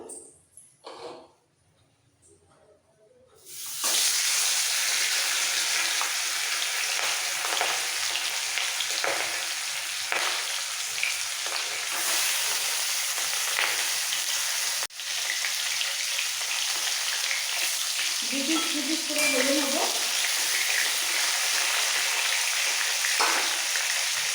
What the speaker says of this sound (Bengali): এবার কড়াই বসিয়ে তেল গরম করে নিয়েছি দিয়ে দেবো মাছের পেটিগুলো